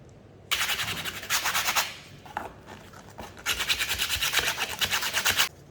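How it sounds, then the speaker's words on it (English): Rough sandpaper scrapes a wooden photo frame in two loud bursts of fast back-and-forth strokes, separated by a brief quiet pause with a few light knocks. "Use the rough sandpaper until the picture fits in."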